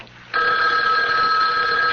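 A telephone rings in a radio drama, one loud, sustained bright electronic bell tone that starts abruptly after a brief quiet moment and carries on alone.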